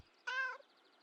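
Short, clear single meow from a cat in the video game Kentucky Route Zero, one mid-pitched call standing alone against a quiet background.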